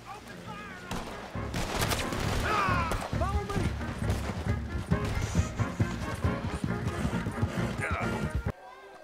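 Gunfire breaks out in Red Dead Redemption 2 as a scattered shootout of sharp shots, mixed with horse hooves, clattering and shouting voices over a busy, loud scene that cuts off abruptly near the end.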